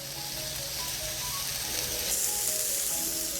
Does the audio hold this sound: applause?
no